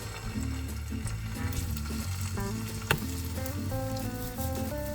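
Steady sizzling of lemons frying lightly in hot oil in a pan, with a brief scrape or clink partway through.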